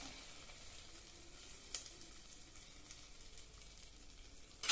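Ghee-roasted cashews are poured over a pan of wheat rava kichadi with moong dal and vegetables, raising a faint, steady sizzling hiss with one soft clink partway through.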